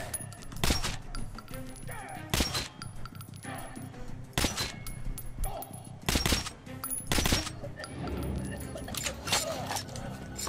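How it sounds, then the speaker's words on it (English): Gunshots in the shooter Metro Last Light: a handful of loud, sharp reports spaced irregularly over a few seconds, with metallic clinks and ambient game noise between them, alongside a talking voice. "I shot him like 10 times"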